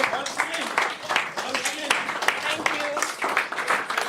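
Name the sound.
audience applause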